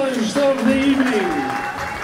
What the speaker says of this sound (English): a big round of applause for the first grapplers of the evening